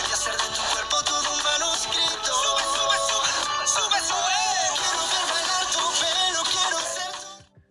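Music plays through the stereo front speakers at the top and bottom of an Alcatel A7 phone: a steady, bright, somewhat thin mix with little bass, continuous for several seconds before it stops.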